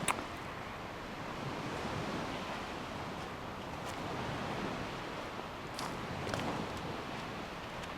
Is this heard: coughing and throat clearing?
no